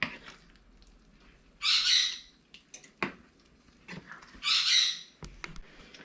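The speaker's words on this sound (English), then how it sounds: "You hear the birds in the background." Two loud, harsh bird squawks a few seconds apart, with scattered clicks and faint background noise between them.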